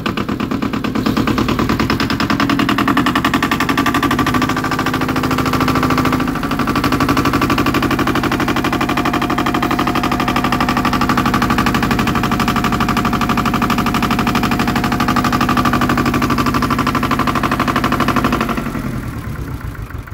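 A Yanmar YM1700 tractor's diesel engine runs close and loud with a rapid, even knocking beat, then cuts off sharply near the end.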